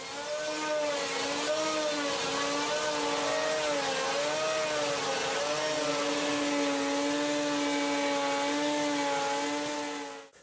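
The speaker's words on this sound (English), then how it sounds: "So I just cut a bigger slot where the blade goes with my jigsaw" Jigsaw cutting a wider blade slot into a table saw insert, a loud continuous whining power-tool buzz with a wavering motor pitch, sustained and close for the whole stretch with no talking.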